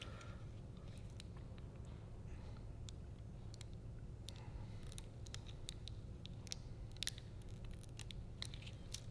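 Cellophane is snipped and creased while patterning a car quarter-window tint, giving quiet, scattered crisp cuts and crinkles against a soft background hiss.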